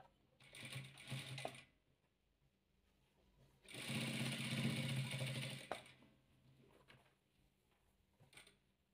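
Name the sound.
sewing machine stitching patchwork fabric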